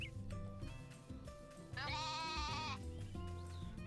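A sheep in Story of Seasons: A Wonderful Life gives one clear, wavering bleat in the middle, set against soft game music, with no voices over it.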